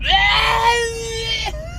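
A woman in labor screams through a contraction during a birth in the Philippines: a long, loud, high wail that drops away, breaks briefly and then rises again.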